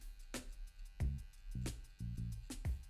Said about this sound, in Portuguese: eu tô usando mais a maquininha de acabamento assim do lado